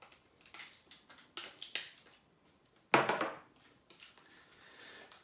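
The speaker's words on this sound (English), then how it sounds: "Let's get our trusted scissors." Quiet crinkling and snipping of scissors cutting the packaging of a Canon EOS M50 camera, a series of small crisp cuts and rustles, with one louder crunch partway through.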